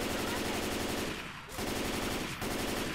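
Automatic gunfire from the zombie shooter game Left 4 Dead 2 rattles in rapid, continuous bursts, with a brief dip in the middle before the firing resumes.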